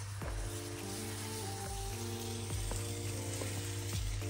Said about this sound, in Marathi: छान हा मसाला आता फ्राय करायचा तेल सुटेपर्यंत